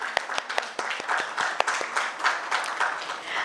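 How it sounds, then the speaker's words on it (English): At an HR conclave in Indore, a conference audience claps: a brisk patter of individual, sharp hand claps from a modest crowd, close and moderately loud, lasting a few seconds. "One round of applause for yourself."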